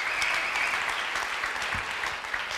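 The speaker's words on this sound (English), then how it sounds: "Give a round of applause." A congregation at Oak Ridge applauds to welcome a new hostess named Laura: an even wash of many hands clapping together, moderately faint and continuous throughout.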